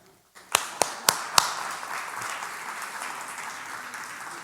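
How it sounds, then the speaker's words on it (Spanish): A church congregation bursts into applause for the Lord, a few sharp claps opening into a steady wash of clapping that fills the room and holds to the end. "Vamos a dar un aplauso al Señor"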